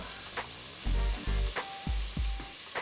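Spices for a red lentil dhal sizzle and fry in a pan over lowered heat, with a constant hiss and several heavy scraping stirs of a spoon, close and without talk.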